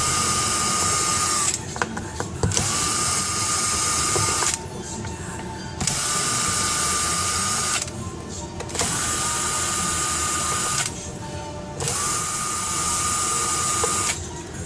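A power screwdriver removes screws from a Panasonic CF-19 Toughbook laptop, running in four steady whirring bursts of about two seconds each, separated by short pauses, close and fairly loud.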